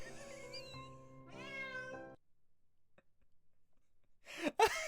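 A cat meows in a few drawn-out, harmonic calls close by, then goes quiet before a short sharp burst near the end.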